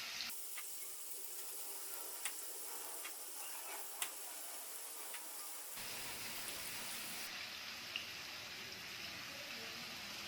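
Paneer tikka fries in a pan, a steady, soft, low-level sizzle with a few small pops; the hiss grows fuller partway through, with no talking.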